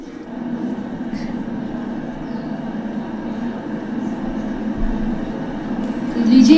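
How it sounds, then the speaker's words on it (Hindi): A Vistadome coach tourist train approaching in Kashmir between Srinagar and Banihal, a steady low rumble building slowly from a distance and swelling louder toward the end, with no talk. "9:22 पे वो आ रही है विस्टाडोम कोच दूर से आती हुई दिख"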